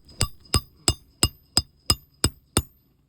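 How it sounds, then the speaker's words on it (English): Eight sharp hammer strikes nailing a roofing shingle during a repair, evenly spaced and close, each with a bright metallic ring and quick decay, no talking. "he's hammering in the shingle or the nails"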